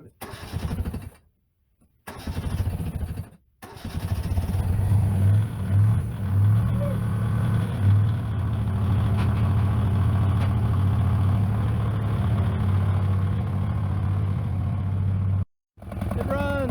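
A 1980 Yanmar YM1500 compact tractor engine cranks after brief silences, then catches and settles into a steady, low, loud diesel-like idle that runs continuously until a short cutout near the end.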